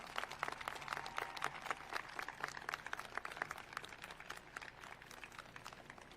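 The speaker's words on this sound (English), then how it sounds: "please give your parents a round of applause." Audience applause for parents at a school graduation ceremony, a steady distant patter of many hands clapping, fairly faint and continuous without talk.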